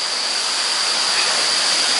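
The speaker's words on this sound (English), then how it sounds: "This waterfall." A waterfall gives a steady, full rushing roar of falling water, close by and constant, with no voices.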